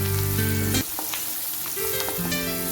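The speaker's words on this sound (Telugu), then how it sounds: "ఇవి కూడా ఆయిల్లో బాగా కొంచెం ఫ్రై అవ్వాలి" Drumsticks and onion fry in oil with a loud, steady sizzle. A tonal hum sits under the first second.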